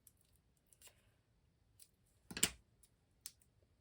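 Scissors snip through paper while trimming a piece down for a Christmas scrapbook layout, with a few quiet clicks and one louder burst of cutting near the middle, close and otherwise quiet.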